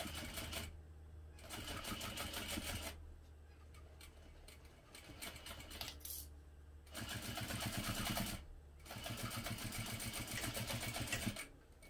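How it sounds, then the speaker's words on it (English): A sewing machine stitches through thick vinyl in fast mechanical runs of rapid needle strokes, stopping and starting in several bursts with brief pauses between. "The sewing machine's mad at me today, I think."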